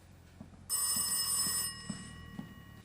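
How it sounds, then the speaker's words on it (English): A telephone bell rings loudly in the horror video game Rise of Insanity, one sustained bright ringing burst lasting about a second, then fading into quiet ambience with soft footsteps. "And trigger the phone ringing."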